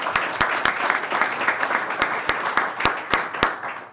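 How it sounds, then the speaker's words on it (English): Applause from the audience at a city commission meeting, a steady patter of many hands with a few sharp, close claps standing out, fading at the end. "Let's give him a round of applause."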